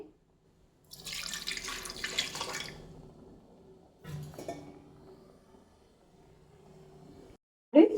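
Water pours into a metal pot of partly cooked vegetables for sambar in two bursts, with a splashy rush followed by a lighter stream, then a brief clink at the end.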